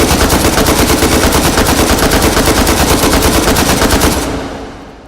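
An AKM fed from a 75-round drum magazine in a video game fires one long, loud, unbroken automatic burst for about four seconds, then cuts off into a short fading tail.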